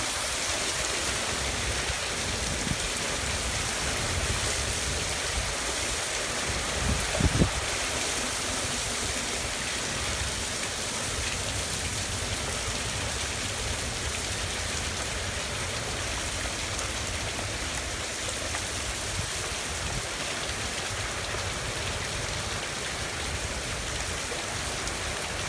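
Very heavy rain pours down steadily during a severe thunderstorm with gusty winds and hail, a loud, unbroken roar of water that continues for the whole stretch with no voices.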